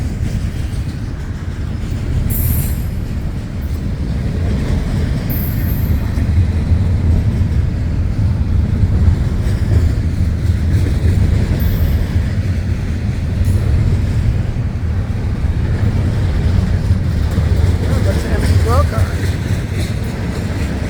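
A long freight train hauling empty containers rolls steadily past at close range, a continuous loud rumble with faint rail squeals and occasional clanks, and no pause throughout.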